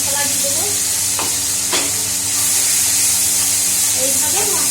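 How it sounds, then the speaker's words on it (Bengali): Spice paste with a fresh green chili being sautéed and stirred in a pan, giving a steady loud sizzle broken by a few scraping stirs of a spoon, with no talking. "এইভাবে মশলাটা কষিয়ে দেবো।"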